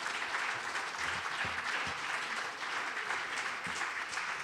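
Sustained applause from a concert audience at a Stratford Playhouse street arts show, dense steady clapping filling the whole stretch without pause.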